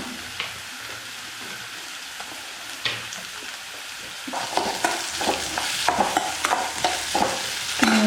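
Chutney ingredients with onion and tamarind frying and being stirred in a pan, a soft sizzle early that turns into busier, louder scraping stirs and crackling in the second half.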